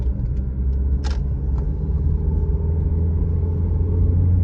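Low engine rumble from a 1993 Mercury Tracer accelerating, heard from inside the car as a steady droning hum that builds slightly, with a couple of brief clicks near the start.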